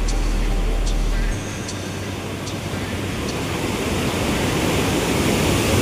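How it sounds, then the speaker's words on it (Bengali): Water rushes through the half-open gate of the Teesta river barrage in a loud, dense, continuous roar, close and steady for the whole stretch. "এত শব্দ হচ্ছে জলের"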